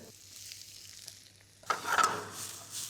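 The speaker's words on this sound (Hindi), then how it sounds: "अब इस स्लाइस प्याज को हम भून लेते हैं तेल में." Sliced onions hit hot oil in a pan, starting quiet and then breaking into a louder, crackling sizzle that carries on steadily.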